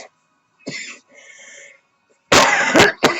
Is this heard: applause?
no